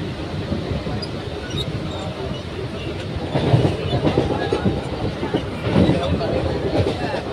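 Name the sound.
crowded local train running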